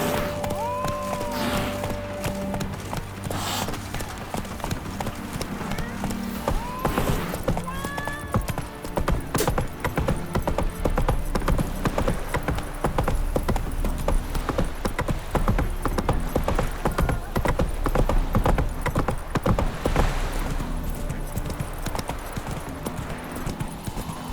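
Roach the horse clip-clops steadily through The Witcher 3, rapid hoof strikes on hard ground running throughout, with a neigh or whinny early on and other game sounds in the background.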